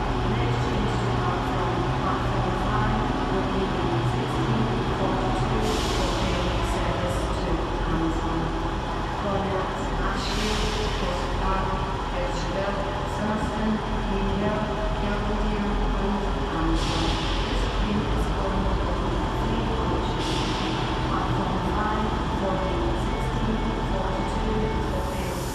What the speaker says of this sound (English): Next out to depart on the far side is 17407, working the 1639 Scotrail service to Aberdeen.